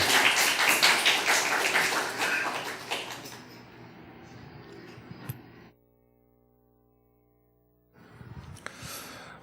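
A congregation applauds its church choir during a Sunday worship service: dense, fairly loud clapping for about three seconds that thins and fades out, followed by near silence and then a brief burst of renewed sound at the end.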